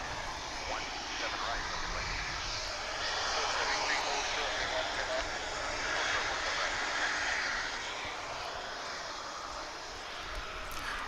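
An American Airlines jet airliner bound for John Wayne Airport roars steadily at DFW International Airport, a sustained broadband engine noise swelling slightly and fading, with a voice talking over it.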